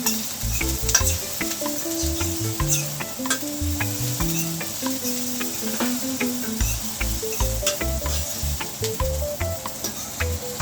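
Sweet pepper sizzling in a hot pan while being stirred for ackee and saltfish, a steady crackling fry broken by clinks and scrapes of the spoon against the pan, close and with no talk.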